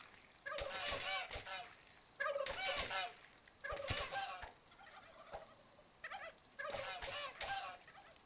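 In How to Survive 2, a flock of turkeys gobbles in repeated loud bursts, four or five rattling volleys of warbling calls separated by short pauses, close and overlapping.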